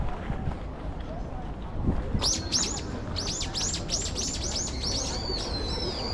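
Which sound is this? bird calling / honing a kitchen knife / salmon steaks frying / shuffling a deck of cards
bird calling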